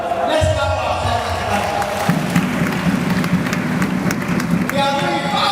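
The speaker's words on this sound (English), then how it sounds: "Let's clap ourselves." An audience at a public lecture on youth and the fight against corruption claps together. The steady, close applause lasts several seconds and fills the room.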